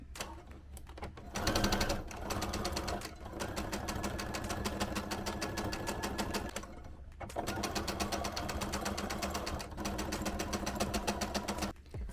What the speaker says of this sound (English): we're going to sew straight down, straight down